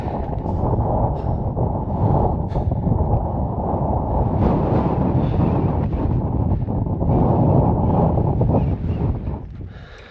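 Strong, cold wind roars continuously across the microphone high on Colorado's tallest mountain, a loud, unbroken buffeting that eases slightly only at the very end, with no voices.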